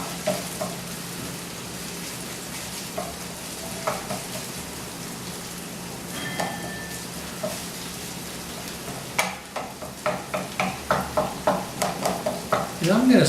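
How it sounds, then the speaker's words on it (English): Onions sizzle and fry in extra virgin olive oil in a pan for acorn squash soup, with steady crackle broken by stirring scrapes and clatters that grow into a quicker run of utensil knocks near the end. "Some nice extra virgin olive oil in the pan. Put the onions in and mix that all in there."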